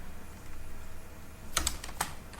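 A few quick keystrokes on a computer keyboard while code is typed, faint and close, following a quiet stretch.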